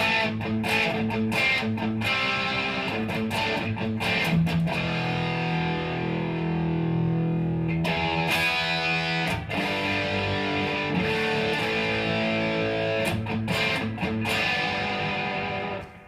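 A heavily distorted electric guitar plays a riff of chords and short notes with abrupt stops, gritty and fuzzy throughout.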